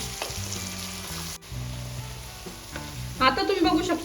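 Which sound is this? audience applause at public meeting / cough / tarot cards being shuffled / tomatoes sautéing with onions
tomatoes sautéing with onions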